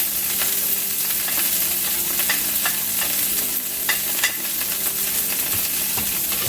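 Onions frying in a pan for a chicken and seafood saffron paella, with a loud, continuous close sizzle and spattering crackles and scraping stirs throughout.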